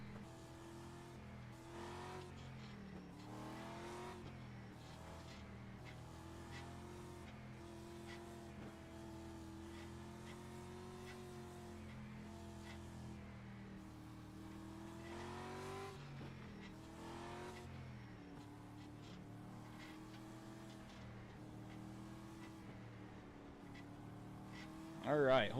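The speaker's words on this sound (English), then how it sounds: "Everybody's scrubbing up their tires," Race car engines in the iRacing street stock game at Thompson International Speedway, droning and shifting pitch as cars weave to scrub and warm their tires, steady throughout with a voice talking over them.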